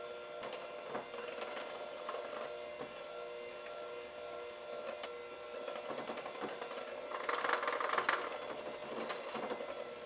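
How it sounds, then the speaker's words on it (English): An electric mixer on low speed blends red velvet muffin batter, giving a faint steady whirring hum with soft rattling bumps and a brief louder patch partway through. "we're going to mix this on low speed"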